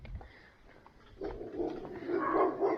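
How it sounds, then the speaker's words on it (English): Dogs barking along a suburban main road during a walk to Clifton Beach shopping centre, a loose mix of barks and yelps at moderate distance, growing busier and louder in the second half, with no talk over them. "Oh, good, more dogs barking."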